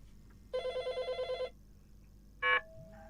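An incoming call on a telephone sounds a pulsing electronic ring of about eight rapid beats, then a shorter burst follows after a pause; quiet room hum sits underneath and no one speaks.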